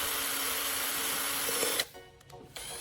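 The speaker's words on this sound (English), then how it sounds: "I drill a small hole right at the center of the can's bottom." Small drill bores a hole into the aluminum bottom of a soda can, running in a steady close whine, then cutting off abruptly with brief clicks and a short restart.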